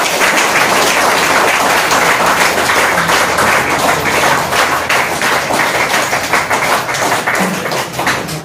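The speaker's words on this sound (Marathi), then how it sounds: "सगळ्यांनी जोरात टाळ्या वाजवायच्या" Audience at a Marathi lecture on Santaji Maharaj Jagnade claps loudly and steadily, a dense, sustained burst of applause filling the hall with no speech over it.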